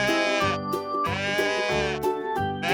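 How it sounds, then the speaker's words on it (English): Goat bleats in a toy farm animal setting, a few sustained wavering calls over a steady musical backing, clear and close. "This is a goat."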